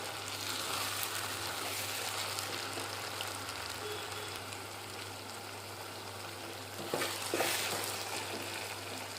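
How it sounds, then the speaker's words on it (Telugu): Broad beans (chikkudukaya) fry in a pan with a steady, low sizzling hiss under a constant hum, with a brief louder rustle near the end and no talk. "ఈ చిక్కుడుగాయలు కూడా పచ్చివాసన పోయే వరకు వేయించుకోవాలి"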